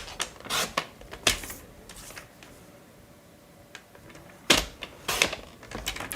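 A paper trimmer slicing card stock into small pieces: several sharp, raspy cutting strokes close by, clustered at the start and again near the end, with quiet rustling between them.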